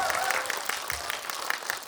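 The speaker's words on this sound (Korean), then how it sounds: "우리 세영 감독님께도 박수 한번 보내주시면 감사하겠습니다" An audience at CGV Wangsimni cinema gives a short round of applause for a film director at a Q&A screening event, steady clapping heard at moderate distance.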